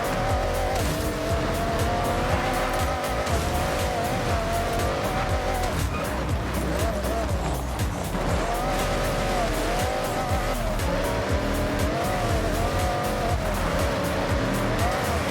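A car drifting in Forza Horizon: a continuous engine roar blends with long wavering tire squeals that rise and fall through the whole stretch, loud and steady.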